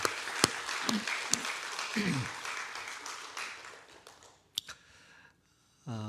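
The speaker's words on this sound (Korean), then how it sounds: "우리 하나님께 영광의 박수 한번 올릴까요?" A church congregation claps in praise, a fairly loud burst of many hands with a few sharp claps that fades out, followed by a brief voice.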